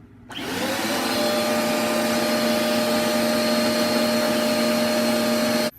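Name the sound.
vacuum cleaner vacuuming a sewing machine bobbin area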